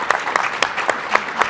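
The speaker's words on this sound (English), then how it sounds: "So quick round of applause." Brief audience applause closing a conference panel session, a close, steady patter of many hands with sharper individual claps standing out, with no talk.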